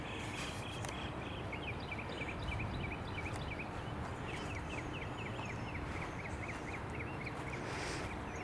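Repeated duck quacks sound at a distance from a cemetery pond over a steady wash of outdoor background noise, coming in loose rhythmic bursts.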